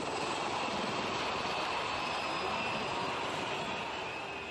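Military display helicopters fly overhead in Egypt, producing a continuous loud engine and rotor drone that holds steady and fades slightly at the end.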